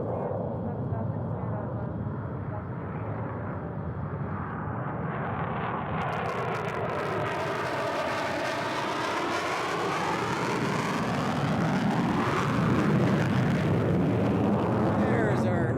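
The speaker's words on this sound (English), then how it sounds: "There's our afterburner." A jet aircraft with afterburner thunders past at Tucson International Airport, a broad heavy roar that swells and shifts in pitch as it passes, loud and continuous, with a person talking over it.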